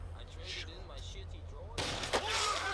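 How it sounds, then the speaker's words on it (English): An incendiary round fires in Company of Heroes 2, a sharp burst over a low steady hum of battlefield ambience, followed by crackling, hissing noise that lingers to the end. "See that incendiary round?"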